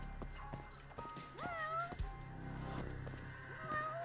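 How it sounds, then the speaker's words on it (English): At least two cats meow inside a video game, drawn-out rising and falling calls overlapping one another, fairly close, over a low rumbling background with occasional thumps. "There are two cats at least."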